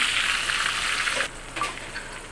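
Onions sizzling and frying in a pan for a spicy butter chicken biryani: a loud, close, continuous sizzle that drops off partway through, followed by a few soft stirring scrapes.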